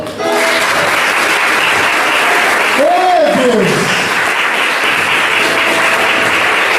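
A church congregation applauds loudly and steadily throughout, and a preacher's voice calls out over the clapping.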